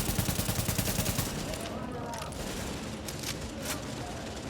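An AK rifle in The Division fires a quick run of evenly spaced shots, then the scene settles into a busy wash of distant gunfire and game noise, all fairly quiet.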